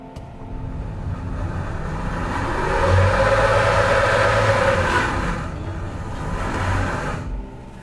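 A 2020 Toyota Prius AWD-e stuck in a slip test, its engine and motor whirring and rising as both front wheels spin furiously, swelling to a loud peak midway and then easing off.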